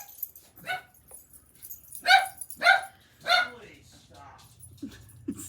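A dog barks several times at close range in sharp, separate bursts, with a few softer yips between, in a quiet indoor room.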